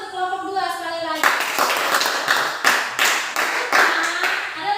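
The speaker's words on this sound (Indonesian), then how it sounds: "Tepuk tangan untuk kelompok 2 sekali lagi." A classroom applauds a student group: after a brief voice, steady clapping from many hands starts and continues at close range.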